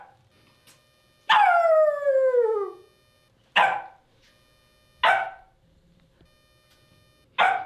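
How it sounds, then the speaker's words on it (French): A dog barks and howls in four separate calls, the first a long, drawn-out wavering howl and the rest shorter sharp barks, loud and close against an otherwise quiet background. "c'est vraiment le moment où Anila aboie"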